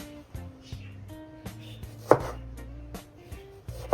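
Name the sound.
knife cutting a tomato in half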